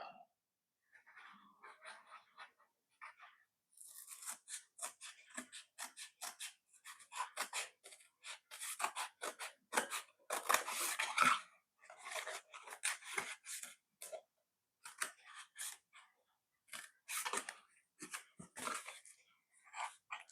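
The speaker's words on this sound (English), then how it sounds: "Using a knife would have been a better choice, but I'm trying to do it all with scissors" Scissors snip and crunch through corrugated pizza-box cardboard in a long run of quiet, close, irregular cuts with brief pauses.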